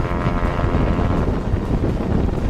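A small airplane's engine at takeoff power during a heavy, high density altitude departure: a loud, steady droning roar with buffeting wind noise, continuous throughout.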